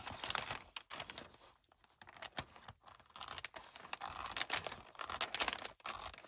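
Scissors cut across a sheet of laminating paper up close, giving crisp crinkling snips and rustles in uneven bursts with short pauses between them, and no talking.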